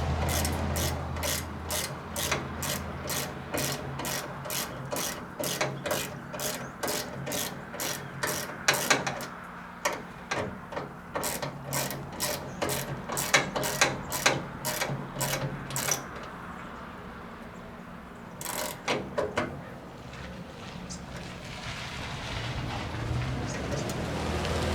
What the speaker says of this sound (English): I'm going to take the longest ratchet I own. And just start cranking.